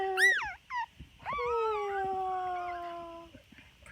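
A newborn puppy just after birth gives high, thin cries, several short yelps and then long sliding whimpering wails, close by in a quiet room.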